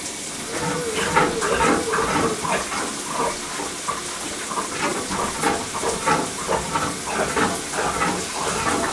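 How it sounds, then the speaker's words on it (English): A shower running at about 8 litres per minute on a dry-deck system gives a steady, loud, close rush of spraying water with no break. "we need to turn the shower on to achieve a flow rate of 8 litres per minute"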